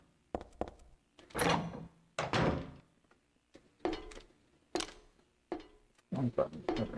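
Doors opening and closing in the PS2 game Silent Hill 3, a series of heavy clunks, rattles and thuds in irregular bursts, fairly loud and close.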